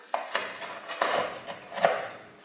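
A Pampered Chef kitchen cutter presses down through a dessert, giving a series of sharp clicks and knocks against the pan, roughly six distinct taps spread unevenly over a couple of seconds, close and moderately loud, with no voices.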